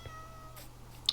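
A single short cat meow sounds close and clear over a low steady hum, followed by a faint high chirp near the end.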